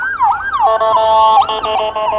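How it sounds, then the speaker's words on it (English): Ambulance siren heading toward a hospital in Las Vegas, loud and close, wailing sweeps turning into a steady two-tone warble with overlapping tones, no one talking. "Let's wait for this ambulance to pass by"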